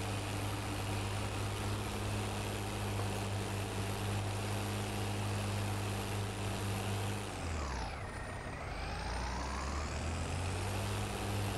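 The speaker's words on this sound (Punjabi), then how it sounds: "ਕਟਾਈ ਚੈੱਕ ਕਰੋ ਬਾਈ ਦੇ ਟਰੈਕਟਰ ਦੀ ਯਾਰ, ਲੱਗਦਾ ਨਾ ਪੂਰਾ ਰੀਅਲਿਸਟਿਕ।" A New Holland 3630 tractor engine in Farming Simulator 22 drones steadily and loudly, dipping briefly in pitch and power partway through before climbing back to a constant hum.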